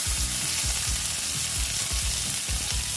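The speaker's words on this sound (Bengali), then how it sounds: "একটু বড় বড় করে কেটে আমি এইভাবে ভেজে নিচ্ছি।" Bitter gourd with green chili frying in a pan, with a constant bright sizzle and a regular rhythm of spatula stirring strokes close by.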